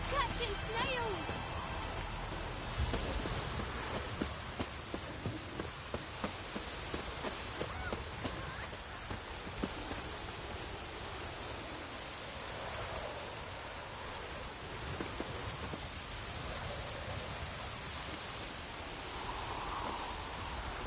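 Steady rain falls in The Witcher 3 video game, a dense, even wash of noise that persists throughout, with faint game sounds mixed in.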